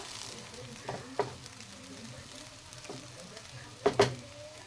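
Fried rice with fried cashews being stirred in a pan, quiet sizzling under scattered scraping and clacking strokes of a spoon, with a louder cluster of knocks near the end.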